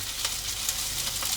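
Chopped capsicum and onion frying in a pan give a steady, loud sizzle, with a few light stirring scrapes on top and no voices.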